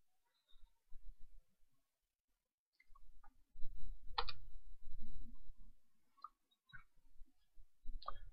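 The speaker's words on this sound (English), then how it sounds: "type some text inside the second terminal" Text is typed on a computer keyboard into a terminal, quiet scattered key clicks in short bursts with pauses between, close and faint.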